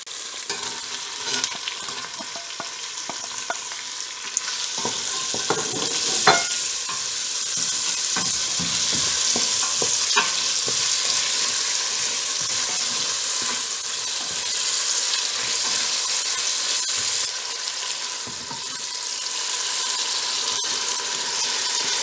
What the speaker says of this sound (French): 2 cuillères à soupe d'huile pour faire revenir les oignons et le chou ensemble